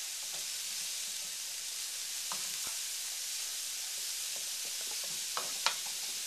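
Sliced zucchini and carrots sizzling in a stir-fry pan, a steady bright frying hiss with occasional soft stirring clicks and a sharper tap near the end, no one speaking.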